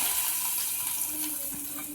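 Soaked raisins and their liquid pour into beetroot pachadi, giving a steady, close, wet hissing stream with no talking.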